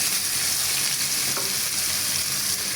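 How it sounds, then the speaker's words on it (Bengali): Onion, green chili and tomato frying in oil with a little salt, a dense, steady sizzle and hiss, close and loud, with no talk and no break. "সেই তেলে পেঁয়াজ, কাঁচামরিচ, টমেটো সব দিয়ে একটু লবণ দিয়ে"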